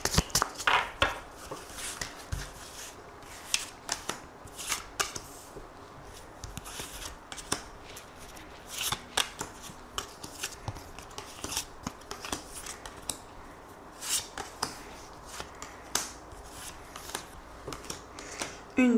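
Tarot cards shuffled by hand ahead of a reading, giving a steady run of soft, papery slaps and riffles with sharp clicks at irregular moments, fairly close and quiet, with no talking over them.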